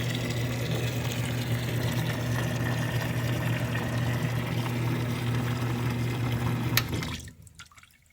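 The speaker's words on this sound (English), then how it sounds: "Switch lights up. Pump's working. Brand new hose. No leaks." Electric pump in a parts washer tank pushing water through a brand new hose, a steady close hum with running liquid that cuts off abruptly near the end.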